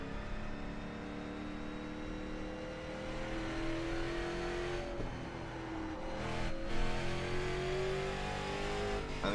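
A stock car engine revs continuously in an iRacing video game, a loud, steady drone with rising pitch and brief dips as the throttle shifts, with no talk over it.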